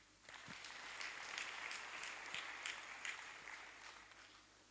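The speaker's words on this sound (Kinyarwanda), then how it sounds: "Komera Imana amashyi." A church congregation applauds during a sermon, a soft, continuous wash of many hands clapping that swells and then gradually tapers off, heard alone and somewhat distant.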